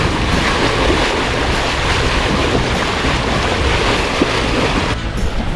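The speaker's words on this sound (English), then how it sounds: "Lake's not too rough, bit of breeze, probably up to about 11 to 12 knots, gusting 15." Wind gusting around 11 to 15 knots and waves slapping a small sailboat on Lake Wānaka, a loud, continuous rushing wash with wind buffeting the microphone close up.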